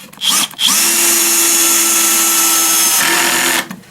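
A Bosch or Einhell 18V cordless drill-driver set to minimum torque and first speed gives a few short blips, then whirs steadily and loudly for about three seconds before stopping.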